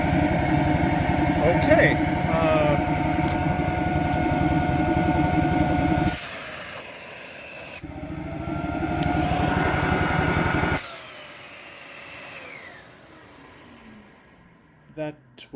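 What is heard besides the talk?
Dyson DC39 vacuum cleaner running, suction test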